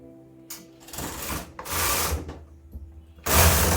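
A Brother KH260 bulky knitting machine running as yarn is fed through, with loud rasping sweeps of the carriage in separate passes, the last pass strongest, close up with short quiet gaps between.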